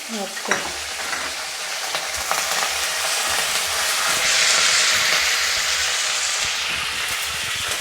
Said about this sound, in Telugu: ఆయిల్ వేసిన, మినప్పప్పు, ఆవాలు, జీలకర్ర, ఎండుమిరపకాయలు, కరివేపాకు,